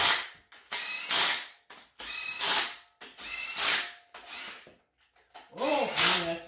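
Impact wrench hammering during assembly of a turbo 5.3 LS engine for a 4x4 Ranger build: loud, close, rapid rattling bursts of about a second each, repeated with short gaps, followed by a brief whine at the end.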